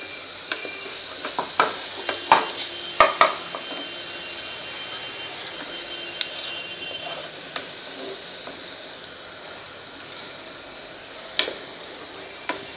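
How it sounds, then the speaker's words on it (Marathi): Ground spice paste sautés in oil over medium heat, giving a soft steady sizzle with a handful of sharp spatula clicks and taps against the pan, clustered early and then sparse. "मध्यम गॅस करते मी आणि मिनिटभर तेलात हे छान वाटण परतून घेते।"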